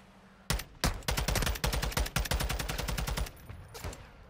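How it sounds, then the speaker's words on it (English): Gunfire rattles in a video game, starting with a few separate loud shots and moving into a fast automatic burst that goes on for about three seconds. A last few shots follow, close and loud, with no talking. "I have no idea who's shooting me right now"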